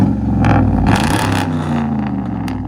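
A 2000s Dodge pickup with a 5.7 HEMI V8 revs hard and close up, giving a deep, throaty roar with quick rises in pitch that settle back to a heavy rumble.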